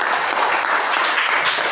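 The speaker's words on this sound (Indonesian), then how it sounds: "coba tepuk tangan untuk Jire." Classroom applause from a group of students, a dense, steady patter of hand clapping filling the whole short stretch at an even, fairly loud level.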